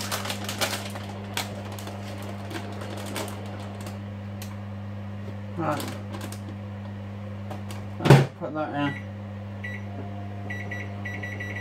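A microwave oven runs in a home kitchen, giving a loud, steady low hum throughout, with a few faint clicks and knocks and one sharper clunk partway through.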